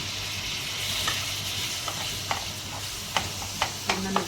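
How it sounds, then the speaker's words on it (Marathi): Two chopped tomatoes going into a pan of frying onions for chicken pav bhaji, a continuous sizzle with stirring scrapes and light metallic taps growing more frequent toward the end, no talking. "आता याच्यात आपण हे जे 2 टोमॅटो चिरले ते टाकूया।"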